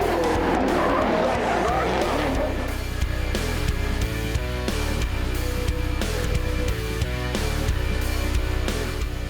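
A supercharged race car at the 2015 Waimate 50 roars steadily at high revs close by, with a scrubbing tire skid early on and the engine note holding loud and continuous throughout.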